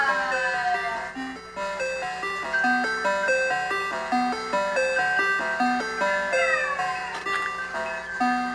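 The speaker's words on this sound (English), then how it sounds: "So it sounds like a little bell ringing." A synthesizer plays a repeating melody of short bell-like tones, each note pinging and decaying quickly like a small chime.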